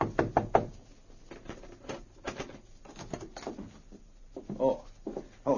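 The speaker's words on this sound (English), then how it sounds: "He knocked on the door of their room." Several sharp knocks on a hotel room door in a radio drama, a quick cluster at the start followed by softer taps and faint movement, with a voice near the end.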